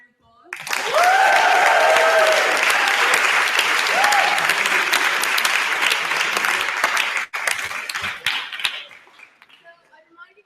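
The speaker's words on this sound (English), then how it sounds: "I think they deserve another round of applause." An audience at a debate event breaks into loud, sustained applause that starts abruptly, holds steady for several seconds, then thins out and fades, with a few raised voices over the clapping early on.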